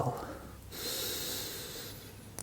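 Deep breathing during a yoga forward bend, a slow, audible breath that rises into a long breathy rush, close and soft, with a slight snort-like edge at the start.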